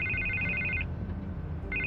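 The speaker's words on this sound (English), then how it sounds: "I can't get the phone to stop ringing." A telephone rings in Batman: The Telltale Series, a bright electronic trill heard twice, loud and near over a low steady background hum.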